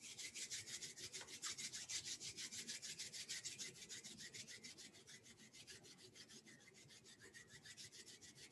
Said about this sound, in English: you can rub the soles of the feet against each other and the palms of the hands against each other